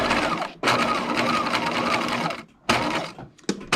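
A sewing machine stitches a lace face mask at regular stitch length, running in close, steady bursts that pause briefly twice before starting again.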